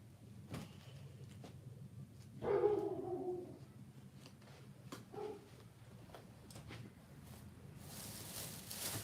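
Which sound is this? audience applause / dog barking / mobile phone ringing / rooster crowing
dog barking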